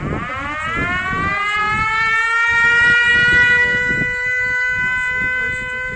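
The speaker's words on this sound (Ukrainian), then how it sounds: "Увага! Повітряна тривога." A civil defense air raid siren wails steadily and loud across a village on a windy spring morning, its rising tone holding for the whole stretch while rumbling wind noise runs underneath.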